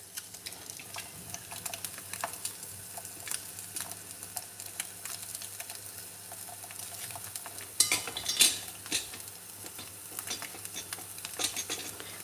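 Eggs fry in a pan for egg curry, a steady quiet sizzle with occasional utensil scrapes and a brief louder clatter midway, no talking.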